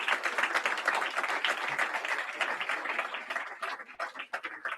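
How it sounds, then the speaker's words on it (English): Applause from a meetup audience, dense and continuous clapping from a roomful of people that thins toward the end into more scattered claps. "you can give a round of applause to them"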